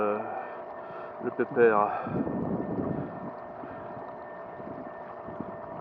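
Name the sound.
electric motor of inflatable kayak running at full power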